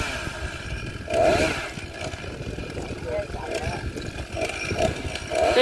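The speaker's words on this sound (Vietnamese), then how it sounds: "Tiếp tục cưa một nhánh nhỏ." A chainsaw buzzes steadily while cutting a small branch from a bodhi tree over 80 years old at a temple, its engine rising and falling as someone talks over it throughout.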